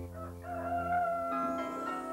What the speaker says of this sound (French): avant le 2e chant du coq